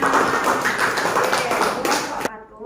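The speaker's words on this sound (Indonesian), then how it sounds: "Tepuk tangan." Small classroom group in Indonesia claps after a student presentation, a busy patter of hands at close range that cuts off abruptly near the end, leaving a faint voice.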